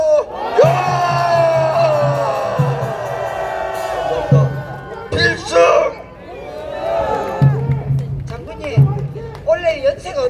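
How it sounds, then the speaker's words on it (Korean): A crowd at a patriotic citizens' street rally in front of the Constitutional Court shouts and cheers in loud, repeated surging bursts, with a voice carrying over it and chant-like swells rising and falling close by. "우리와 같은 함성 소리 질러!"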